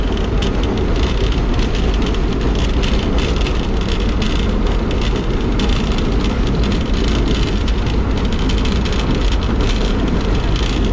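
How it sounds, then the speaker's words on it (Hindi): Pak Business Express train running fast on rails, a steady, loud rumbling roar with continuous wheel-on-track noise and faint rattling, heard close from inside the carriage throughout. "ये कुछ स्पीड है ट्रेन की सम्मा सट्टा रेलवे स्टेशन पर पहुंचने से पहले"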